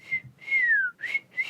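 A person who can't really whistle tries anyway, producing four short breathy whistled notes, one a longer gliding tone that slides downward, close and alone.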